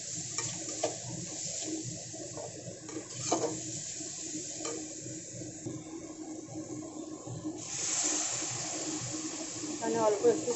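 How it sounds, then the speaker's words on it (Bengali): Cumin and chili powder masala stirred in a pan for a fish fry curry, with soft scraping strokes over a low, steady sizzle and occasional clinks, under a speaking voice. "জিরে গুঁড়ো, লঙ্কার গুঁড়ো দিয়ে মশলাটাকে খুব সুন্দর করে মিক্স করে নেব।"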